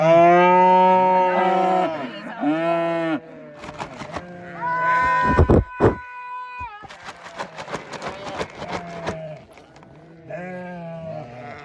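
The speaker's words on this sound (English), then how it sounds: "most of these lambs here are like 2-3 weeks old" Young lambs, two to three weeks old, and ewes bleat repeatedly nearby, long wavering calls overlapping and answering one another, with brief rustling and handling noises between calls.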